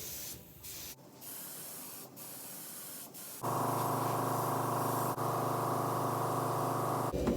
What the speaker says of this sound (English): I'm not spraying big body panels, I'm spraying tight frame rails.